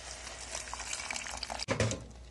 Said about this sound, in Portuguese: Eu vou colocar mais um pouquinho de água.